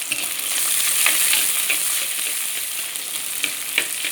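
Chopped small shallots and slit green chillies fry in hot oil in a pan, producing a close, steady, crackling sizzle with light stirring and no talking.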